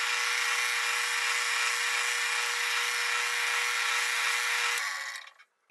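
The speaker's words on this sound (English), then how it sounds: "I've moved over to the drill press because I need to drill some holes for the T-nuts to go in." A drill press bores holes for T-nuts while a sharpening jig for chisels and plane blades is being built. It gives a steady, loud whirring whine that runs continuously, then winds down and stops near the end.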